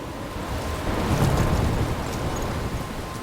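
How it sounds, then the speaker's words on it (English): Thunderstorm in the video game Life Is Strange: steady heavy rain hisses throughout, with a low thunder rumble swelling near the middle. "I'm trapped in a storm?"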